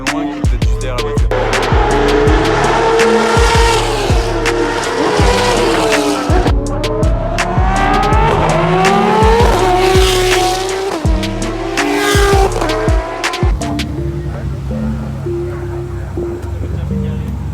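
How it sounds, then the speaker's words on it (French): Formula 1 cars scream past on a racetrack one after another, their high-revving engines sweeping up and down in pitch as each passes. Loud downshifts and tire noise punctuate the run before the sound drops back to a distant rumble. "j'avais jamais entendu de Formule 1 comme ça faire ce bruit-là"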